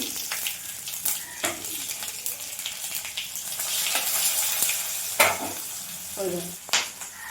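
Bay leaf and panch phoron frying in hot spattering oil: a continuous crackling sizzle close by, with sharp pops and spits breaking through at intervals and a few clinks of a utensil.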